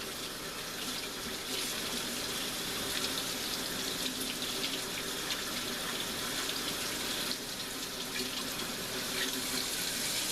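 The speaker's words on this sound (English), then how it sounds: "I'm washing it with cool water." Cool water runs steadily from a tap into a sink, a continuous hissing splash with slight shifts as Canadian bacon is rinsed under it.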